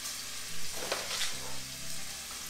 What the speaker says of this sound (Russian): Теперь забрасываем кольца кальмара.